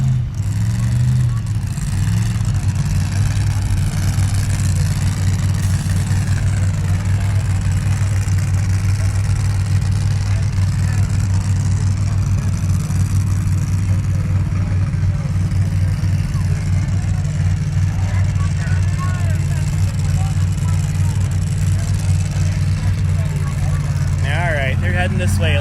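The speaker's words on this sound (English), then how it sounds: "Here's some engines starting up back in the lanes." Drag racing engines at the 2018 SCSDA Hammer Down Nationals, A/Fuel and Pro Mod cars, rumble steadily as they start up and idle back in the lanes, a loud, sustained low-pitched drone under a commentator's voice.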